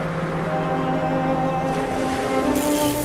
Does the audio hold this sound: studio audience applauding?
no